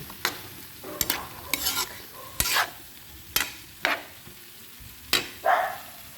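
Bitter gourd (ampalaya) sautéing with a little sugar in a pan, a spatula scraping and stirring in about nine sharp, irregular strokes over a steady close sizzle, with no talking.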